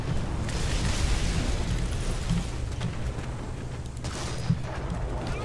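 Heavy tank cannon fire from a StuG assault gun in the War Thunder video game, shooting down a fence: a dense, continuous rumble of booms and blasts with a sharper thud near the end.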